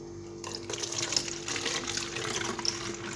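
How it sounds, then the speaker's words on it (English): Ginger hair-treatment liquid running through a very fine sieve into a spray bottle, a steady close splashing trickle that begins abruptly and continues evenly over a low constant hum, with no talking. "So now I'm going to run it into the bottle, the spray bottle, with the help of a sieve, a very fine sieve."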